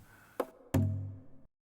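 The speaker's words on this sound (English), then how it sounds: "In this case I've got large drums, it sounds like this." Large drum samples played back from an FMOD multi-instrument: two deep booming hits, a short one followed by a heavier one that rings and decays for most of a second before cutting to silence, close and alone.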